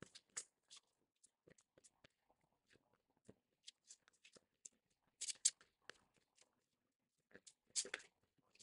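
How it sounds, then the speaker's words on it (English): A tarot deck is shuffled by hand, making faint, close, irregular papery flicks and riffles scattered across several seconds, with a couple of louder bursts near the middle and end. "I think they needed a bit more of a shuffle."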